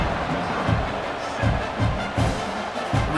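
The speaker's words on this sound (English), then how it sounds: "this crowd is buzzing after that last score" A big stadium crowd at a college football game in EA Sports College Football 26 keeps up a continuous roaring buzz, loud and steady, with low thumps pulsing underneath.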